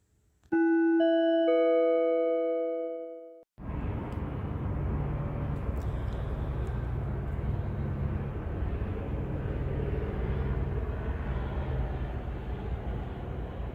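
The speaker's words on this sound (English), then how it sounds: "That's audible activity of helicopter" A bright ringing chime sounds first, then a broad steady rotor roar drones on continuously, close and loud, a helicopter passing overhead at night.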